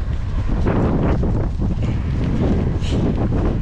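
Strong wind buffets a small fishing boat out on the water, a loud, steady roar of gusts against the microphone with no voices.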